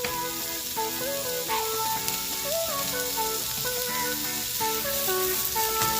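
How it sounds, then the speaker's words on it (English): Vegetables with garden chili peppers sautéing in a pan for shakshuka, giving a steady close sizzle and crackle that holds throughout, with no talking. "we're going to saute this until everything is cooked"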